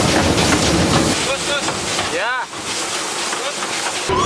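A plantation lorry train carries riders in its passenger car, a loud steady rumble of the moving cars with wheel rattle and a squealing screech partway through, while someone talks over it.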